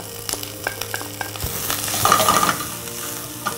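Pickled cabbage frying in a pan, with a loud close sizzle under repeated scraping and tapping of a utensil stirring it around.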